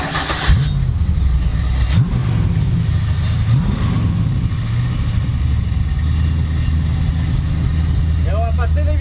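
A Dodge Charger, a Fast & Furious style replica, cranks and fires up. It settles into a loud, deep, rumbling idle with a couple of short rev swells early on and a steady throaty drone after that.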